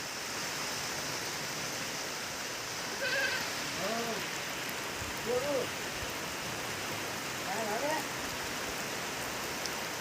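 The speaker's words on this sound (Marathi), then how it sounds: "हे बघा पाऊस झालाय चालू" Steady rain hisses throughout, with goats bleating a few times over it, near and moderately loud.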